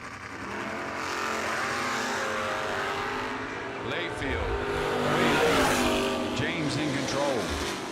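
Drag racing launch at a bracket event, a Camaro and an S10 pickup roaring off the line together, engines rising loudly and pulling away, with an announcer talking over the noise.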